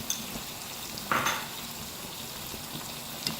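Masala with a spoonful of dried coriander stirred in a pan over high heat, a soft continuous sizzle with a brief louder scrape of the spoon partway through and faint clinks, no voices.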